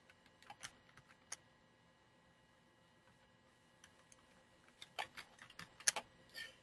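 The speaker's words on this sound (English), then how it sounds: "I can type in my lettering." Quiet keystrokes on a computer keyboard while lettering is entered in design software, scattered clicks and short bursts that grow denser and louder toward the end, close-up with no talk.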